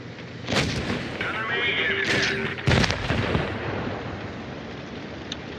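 A tank cannon in World of Tanks Blitz, on a French AMX 50 Foch, fires with a loud, close boom and then a second heavy blast, each trailing off into a rumble, while someone talks over the action.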